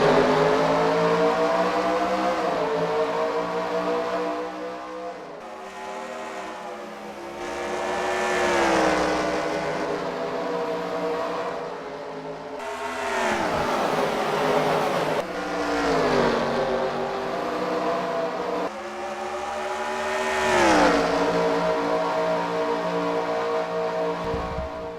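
Several race cars in a NASCAR-style racing video game at Richmond roar past in waves, engine pitch climbing and falling as each pack sweeps by, loud and steady with no talking.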